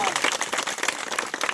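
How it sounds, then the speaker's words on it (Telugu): Loud crowd applause at a Kondagattu Giripradakshina devotional gathering, a dense steady wash of many hands clapping close by, with faint voices mixed in. "గట్టిగా చప్పట్లు కొట్టు."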